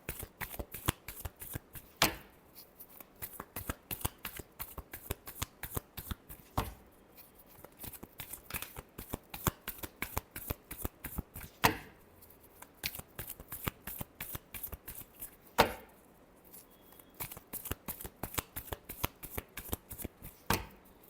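Tarot cards are shuffled in quick riffling bursts, a rapid run of crisp flutters broken by a few sharper slaps, close and steady with no talk over them.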